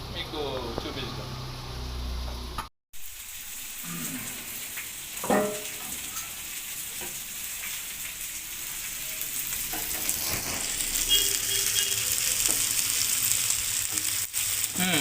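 Fish fries in a pan in a home kitchen, a steady broad sizzle running throughout with occasional pops and stirring clatter, and a brief dropout early on while a voice speaks over it.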